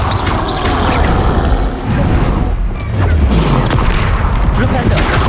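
Bombarda blasting spells exploding in Hogwarts Legacy, dense booming blasts with crashing debris and rumbling, loud and continuous, mixed with a voice calling out spell names.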